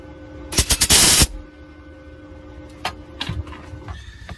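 Welding bursts on small metal rose petals, a loud crackling cluster of short zaps lasting under a second, followed by faint clicks and low mains hum.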